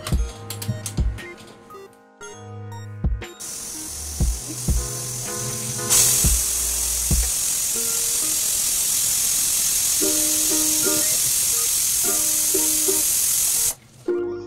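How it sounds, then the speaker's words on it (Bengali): A pressure cooker cooking mutton gives a loud, steady high whistling hiss that runs for about eight seconds and then cuts off, following scattered kitchen clatter and musical tones. "প্রেশার কুকারে আমরা মাটনটাকে 4খানা সিটি দিয়ে নিয়েছি।"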